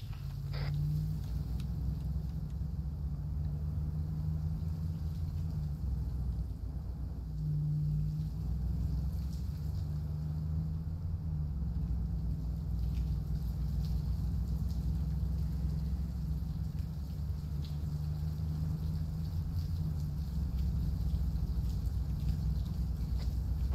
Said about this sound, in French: véhicule en mouvement